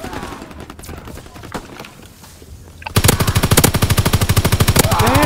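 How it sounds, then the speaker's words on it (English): Gunfire in Call of Duty WWII: quieter scattered game noise gives way to loud, sustained automatic fire, a rapid, even stream of shots rattling close by for several seconds. "Pull out a sniper and shoot the shit out of him."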